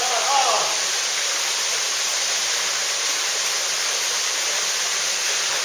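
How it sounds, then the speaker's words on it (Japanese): Miyauchi waterfall on the Takagoya River pours in a steady, loud, broadband rush of falling water that stays constant and close throughout, with no other sounds standing out. "宮内滝です。"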